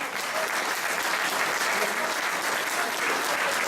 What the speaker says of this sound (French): Donc applaudissements s'il vous plaît.